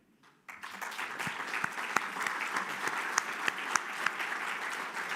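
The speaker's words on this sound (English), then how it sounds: "giving a round of applause to the representative of Albania" Applause breaks out at the FEBA Annual Convention for the representative of Albania, beginning abruptly after a moment of near silence and continuing as a steady patter of clapping, moderately distant.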